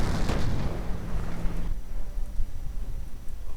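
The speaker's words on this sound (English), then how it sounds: "Nice hit from the flak against the Sherman." A flak gun shell strikes a Sherman tank in a wartime strategy video game. A loud, rumbling blast fills the first second and a half, then fades into a low, steady battle rumble.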